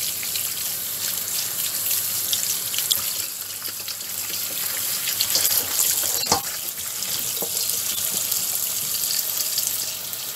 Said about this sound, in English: So the first thing I'm gonna do is wash these sorrel.